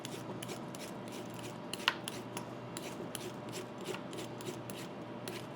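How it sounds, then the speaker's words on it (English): A vegetable being peeled with a hand peeler, giving a steady run of soft, quick scraping strokes close by at low volume, with no talking. "So I'm just going to peel this."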